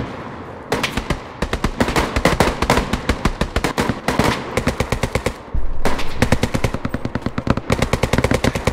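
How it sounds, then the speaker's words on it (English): Gunfire in the World War II video game Hell Let Loose comes as loud, rapid automatic bursts, evenly spaced rattling shots that run almost without pause, broken by a few short gaps. "Riley, they shot me and it's breaking the Geneva Code."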